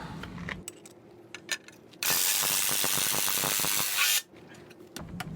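A smaller power driver runs a long screw into a Simpson universal foundation plate, a loud steady two-second whir between scattered clicks and metallic handling taps before and after.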